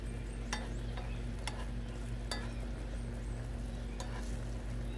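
A utensil stirs cornstarch slurry into chicken marsala sauce in a pan, with a soft continuous sizzle and a few sharp scraping clinks at intervals, quiet and steady.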